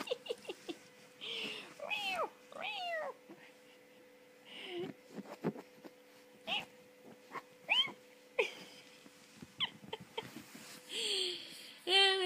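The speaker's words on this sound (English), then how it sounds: "Oh, you're just a bad cat." A domestic cat meows repeatedly, with several drawn-out, rising and falling cries spaced irregularly at close range, while a person talks to it between and over the calls.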